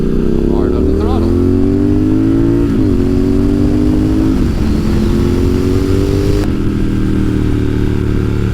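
A motorcycle engine revs hard and loud on a winding mountain road, the Back of the Dragon, its pitch climbing in surges as the throttle opens, with a shift near the end.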